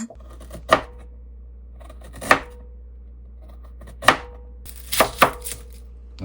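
A knife chopping food on a cutting board in a home kitchen, a few sharp isolated chops spaced apart, then a quick double chop near the end, close and clear with no talk.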